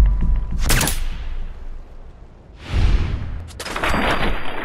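Three separate heavy gunshot blasts in Fallout 4, aimed at the head and torso of a creature. Each blast is loud and close, with a decaying tail and a few seconds of gap between them.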